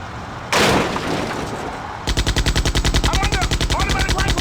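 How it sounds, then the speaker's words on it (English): Automatic rifle fire from the video game Die Hard: Nakatomi Plaza: a single loud blast, then a rapid, steady burst of machine-gun shots rattling on without pause. "Automatic rifle fire in Nakatomi!"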